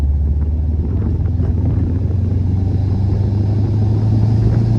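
A tuned Subaru WRX bugeye engine pulls under part throttle from inside the car, a steady loud low drone with a rumbling exhaust note that holds even throughout.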